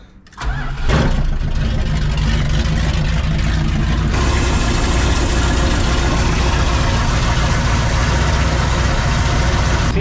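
A Dodge Ramcharger's 5.2 Magnum V8, fitted with new valve covers, cranks briefly and catches, then settles into a loud, steady idle that runs to the end with no talking.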